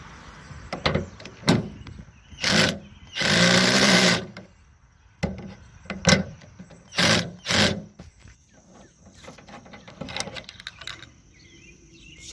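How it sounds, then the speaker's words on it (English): Two 10mm screws being removed from the trunk of a 2009-2013 Toyota Corolla with a power tool, several short whirring bursts and ratcheting clicks between quiet pauses, close and fairly loud, with no talking. "two 10mm screws I need to take out of here"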